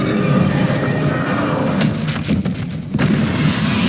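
Bombarda explosion spell cast in Hogwarts Legacy, a dense booming blast with rumbling, crackling debris filling the whole stretch, loud and close with several thudding impacts layered over a continuous roar.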